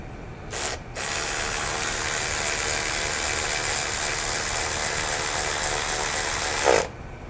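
A ShieldPro 20V cordless electric ratchet wrench with a 3/8-inch drive runs close by as a steady, loud motor whir for several seconds, with a brief stop near the start and a short spike as it winds down at the end.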